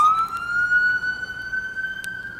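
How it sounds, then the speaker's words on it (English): A wailing ambulance siren rises and holds its tone as it passes fairly close on a city street, loud and alone. "Oh, it's an ambulance, yeah. We'll let it pass."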